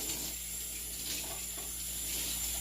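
Water runs steadily from a tap into a pot while carrot ginger soup is being made, a continuous, fairly quiet splashing flow with no talking.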